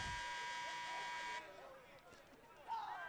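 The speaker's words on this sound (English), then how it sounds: "Buzzer's gone off." A loud, sustained electronic buzzer ends a men's club soccer match between Texas and Texas A&M, sounding for over a second and then cutting off abruptly, followed by crowd noise and a commentator talking.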